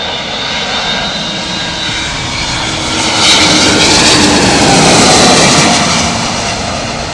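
DHL Airbus A300-600 freighter passing with a loud, steady jet engine roar that swells slightly in the middle and holds, with no voices.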